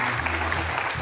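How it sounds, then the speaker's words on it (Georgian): Audience applause for team Brazil at a quiz game show, steady continuous clapping filling the whole short moment. "აპლოდისმენტები კიდევ ერთხელ ბრაზილიას."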